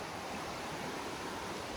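River water flows over rocks along a nature walkway, a dense, steady rushing wash with no pauses, heard close and fairly soft.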